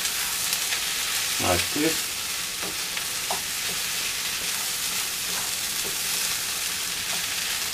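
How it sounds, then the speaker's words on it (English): Rice fries in oil with an onion base for a beef and vegetable risotto, a steady close sizzle broken by several scraping stirs, and a voice speaks briefly. "I fried the rice for a while, a few seconds, and I mix it very well with the base of food"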